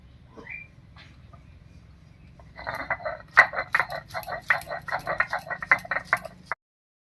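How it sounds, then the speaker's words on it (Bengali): Garlic cloves and green chillies are ground into a paste on a grinding stone, with rhythmic rasping strokes repeating quickly and closely for several seconds after a quiet start, then stopping abruptly; no one speaks. "কয়েক কোয়া রসুন আর কয়েকটা কাঁচা লঙ্কা একসঙ্গে করে মেটে নেবো"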